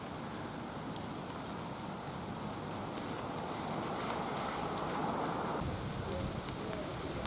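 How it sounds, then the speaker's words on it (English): Steady rain falling and pattering on surfaces in Japan, a continuous hiss that stays fairly even throughout, with no voices. "Raining again."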